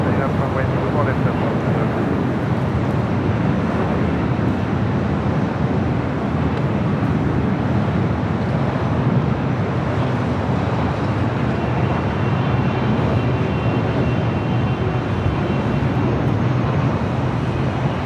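Emirates heavy jet taking off at Los Angeles International Airport, a steady, loud broadband engine roar that holds evenly throughout with no break or fade.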